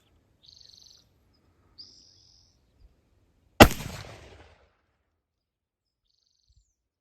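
A single sharp, loud gunshot from an 1861 Navy revolver loaded with homemade black powder rings out close by and decays over about a second, with faint bird chirps before it.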